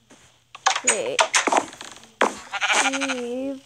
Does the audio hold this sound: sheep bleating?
yes